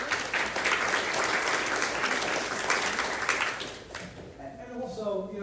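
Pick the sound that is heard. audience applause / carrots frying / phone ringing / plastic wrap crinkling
audience applause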